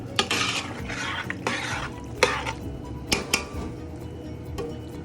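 A utensil stirs rasta pasta with cheese around a pan, giving soft scraping and clinking strokes close by over a faint sizzle.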